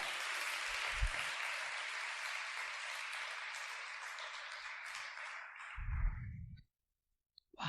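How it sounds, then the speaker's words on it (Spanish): Loud, steady applause fills a church congregation for several seconds, then fades out and stops, with a low thump near the end. "Denle un fuerte aplauso al Señor."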